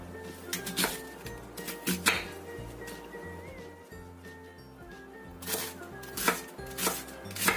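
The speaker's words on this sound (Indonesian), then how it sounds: "Aku pakai seperempat butir bawang bombay. Ini kita potong dadu." A knife dices onion rapidly on a cutting board, repeated sharp knocks coming in bursts with short pauses, close and fairly clear.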